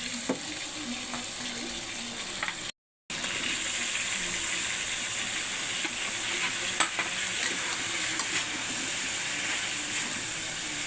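Ginisa sautéing in a pan, a steady close sizzle and frying hiss with occasional stirring scrapes, broken by a brief cut of silence near the start, no voices.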